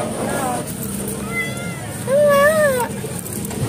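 A Persian cat meows several times in a busy market, with short rising-and-falling cries heard over background chatter and people talking nearby.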